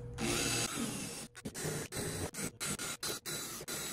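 A power drill with a 4.5 millimeter bit whirs loudly, then runs in a series of short bursts with brief pauses between them as holes are bored for a DIY rack-mount backup battery.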